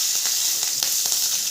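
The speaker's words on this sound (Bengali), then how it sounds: "কড়াইতে পরিমাণ মতো তেল দিয়ে জিরে, তেজপাতা আর দারচিনি, কাঁচা লঙ্কা, চিড়ে রাখা কাঁচা লঙ্কা একসঙ্গে ফোড়নে দিতে হবে" Cumin, bay leaf, cinnamon and slit green chilies sizzle in hot oil in a kadai for a tempering, a loud, steady hiss with faint crackles throughout.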